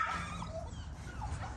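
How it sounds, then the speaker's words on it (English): Several XL American Bully dogs whimper and whine softly before feeding. The cries are faint and brief, with a low rumble underneath. "all my dogs are ready to eat, okay?"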